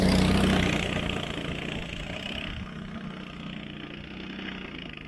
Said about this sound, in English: Subaru engine being water cooled.